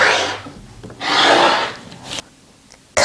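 Rotary or blade cutter slicing through quilted jelly roll fabric to trim a placemat edge, two long rasping strokes with brief quieter scrapes between, close and fairly loud with no talking.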